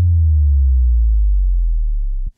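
A deep synth sub drop from Ableton's Operator, run through multiband dynamics and a saturator, slides steadily downward in pitch, loud and continuous, then stops abruptly after about two seconds.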